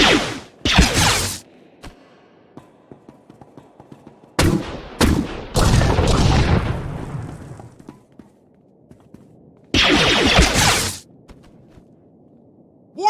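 Blaster gunfire in the Star Wars: The Old Republic game on Belsavis, loud bursts of shots in three separate volleys with quiet ambience between them, close and sharp.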